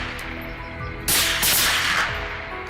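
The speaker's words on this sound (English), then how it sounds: "Gunshots rang out, each hog dropping swiftly to the ground." Gunfire during a wild boar hunt cracks loud and close, with a sharp burst followed by a second extended blast over outdoor ambience.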